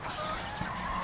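Backyard quail cluck softly inside a coop, with a few faint calls over steady outdoor background noise and no talking.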